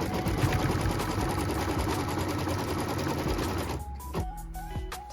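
An embroidery machine stitches a tack-down line on a quilt block in a rapid, steady run, then stops and gives a few short electronic beeps.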